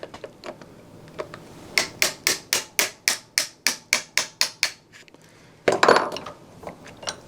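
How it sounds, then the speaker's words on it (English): A small punch is hammered against a mild steel rivet on a suitcase wheel, producing about a dozen sharp, evenly spaced metallic taps close by, with a few scattered knocks before and after. "Now we're just going to tap that rivet out with a small punch."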